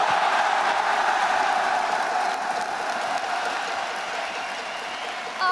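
A Paris esports crowd applauds Faker and T1, a dense, steady roar of clapping and cheering that holds loud throughout and fades slightly toward the end.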